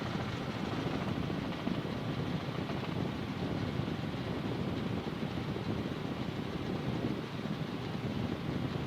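Steady broadband drone of a Robinson R44 helicopter in flight during a training session, heard from inside the cabin as a constant rumble with wind-like hiss, no distinct changes over the clip.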